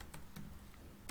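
Someone is typing code on a computer keyboard: a handful of sharp, separate key clicks spaced irregularly over a quiet background.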